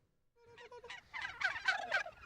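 Free-range turkeys gobble on a farm in the run-up to Christmas, a few rapid rattling gobbles building from quiet to a cluster of close, fairly clear calls.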